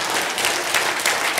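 A lecture hall audience breaks into dense, continuous applause, a loud wash of many hands clapping at once with no talking over it.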